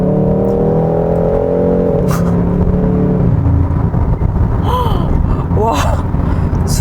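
A Hyundai Sonata The Edge N Line 2.5 turbo in sport mode, active engine sound set strong, revs and roars loudly under hard acceleration, its droning pitch climbing, with a few breathy exclamations near the end.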